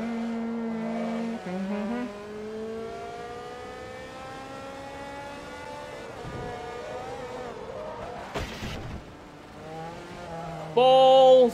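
An Audi race car laps the Nurburgring in Forza Motorsport 2, its engine whine climbing through gears with shifts and brief tire squeal, steady and close, ending in a loud burst of revving.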